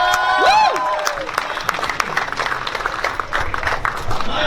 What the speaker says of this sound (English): Let's a round of applause, please. Let's make some noise.